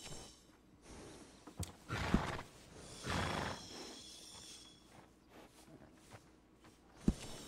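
Horse neighing and snorting in the video game Red Dead Redemption 2, a few quiet whinnies and breaths with occasional sharp hoof clops, faint overall.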